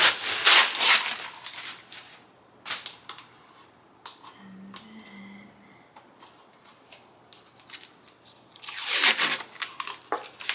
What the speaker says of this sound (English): Does anybody else find it so satisfying to peel stuff?